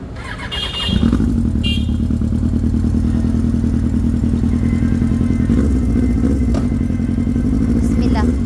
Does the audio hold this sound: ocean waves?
no